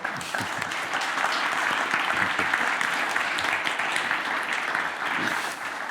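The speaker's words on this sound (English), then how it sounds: "a big thank you to our panelists, a round of applause" A panel audience gives a round of applause for the panelists, loud continuous clapping that stays even and dense for about six seconds with no talk over it.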